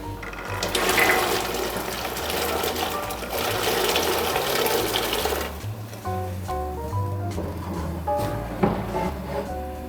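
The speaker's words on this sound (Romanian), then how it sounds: "Apa a început să fiarbă, vom adăuga corcodușele la fiert." Water churns and bubbles steadily at a rolling boil, then the sound thins out as a few clinks and small splashes follow as green cherry plums are added.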